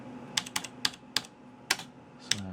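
Keys clack on a Bondwell B310 laptop keyboard as a DOS command is typed: about seven separate, crisp keystrokes spaced irregularly, close and fairly quiet, with no voices.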